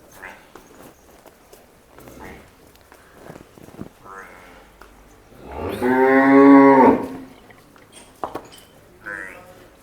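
A buffalo lets out one loud, long moo close by, amid scattered footsteps and faint farmyard noises.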